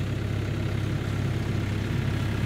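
A tractor engine idles with a low, steady rumble, close and constant, while the machine pushes its lower forks into a hay bale.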